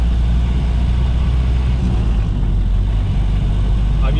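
A Ford Model A with a Burtz block flathead V8 and a Mitchell overdrive drives along, its engine giving a steady, close, low rumble that holds even throughout.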